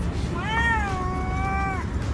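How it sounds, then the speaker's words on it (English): An island cat on Mafushi in the Maldives gives a single drawn-out, wavering meow against a steady outdoor background hum. "a gang of cats was never too far behind"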